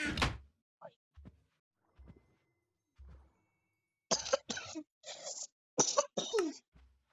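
A loud single cough, then several soft thuds and a quick run of harsh coughs near the end, with silence between.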